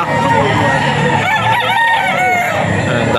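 A farm-bred rooster among hennie-type gamefowl crows loudly and close, a drawn-out cock-a-doodle-doo over clucking and other birds nearby.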